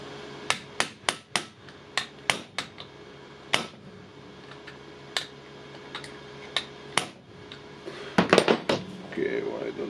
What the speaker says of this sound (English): now I need to punch out the anvil